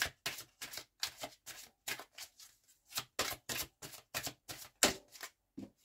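Tarot cards being shuffled and drawn, a close series of quick, crisp papery flicks and taps in an irregular rhythm with brief pauses.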